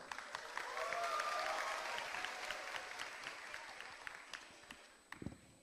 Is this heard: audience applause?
yes